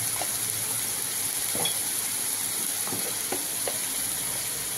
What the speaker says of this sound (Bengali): এবার এটাকে কষা হবে